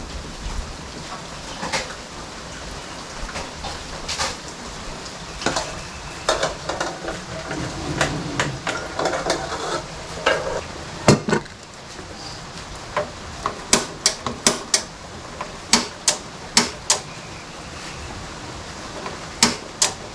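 Outdoor cooking at a campsite on Mt. Masaraga in Albay, with sizzling and stirring noises, a run of sharp utensil knocks or chopping taps that grows denser toward the end, and faint ambient background throughout.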